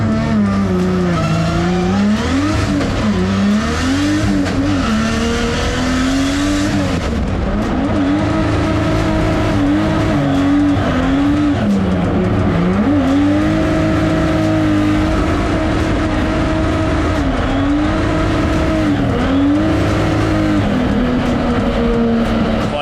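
A loud race car engine wails and revs continuously, pitch swinging up and down with shifts, while tires squeal and skid throughout.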